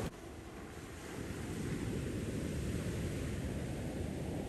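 Ocean surf rolls in at Ipanema Beach in Rio de Janeiro on a windy day, a steady broad wash of breaking waves mixed with gusting wind noise and no talk.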